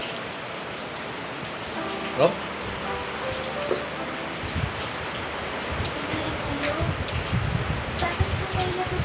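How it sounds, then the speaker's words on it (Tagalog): Steady rain falls outside behind a closed door, a dense continuous hiss under a family meal, with people talking and occasional clinks and knocks nearby. "Umuulan guys kasi kaya sinarado namin yung pinto."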